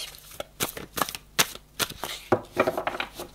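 A deck of tarot cards is cut and shuffled by hand, a quiet close series of crisp slaps, riffles and flicks in an irregular rhythm with short pauses between bursts.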